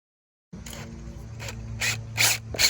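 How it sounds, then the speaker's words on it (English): A power driver sets a self-tapping screw into a Trex Signature rod rail extrusion, a steady motor whir with a low tone and repeated ratcheting bursts, close and loud and without voices. "there are these extrusions that are meant to fit the screw, and it sort of self taps as it gets driven in there"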